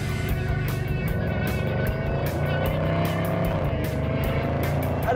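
A Range Rover Sport SVR in dynamic mode accelerates hard, its engine note rising steadily and loudly with a sharp, aggressive tone from a heavy SUV of nearly 2.5 tons, close and continuous with no talk.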